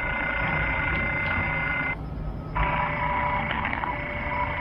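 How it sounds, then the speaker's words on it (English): LF radio beacon keying its call sign in Morse code, received through an RTL-SDR: steady tone pulses with a short gap, over constant radio hiss and static. "The call signs are sent out in Morse code."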